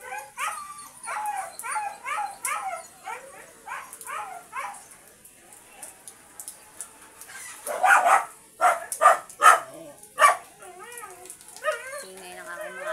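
Pet dogs, one called Choco, yip and whine in quick, pitched bursts before breaking into several loud, close barks, while a vegetable garden of alugbati is harvested nearby.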